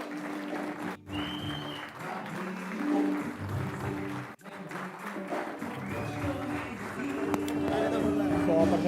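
An audience at a seminar or motivational event applauds loudly for a guest speaker, steady dense clapping running throughout, with a voice briefly heard over it.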